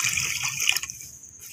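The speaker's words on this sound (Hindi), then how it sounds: "मैं इसमें पानी शामिल करने लगी चीनी में शीरा बनाने के लिए" Water being poured onto sugar in a pan to make syrup for suji halwa, a brief splashing pour of under a second that then trails off into quiet.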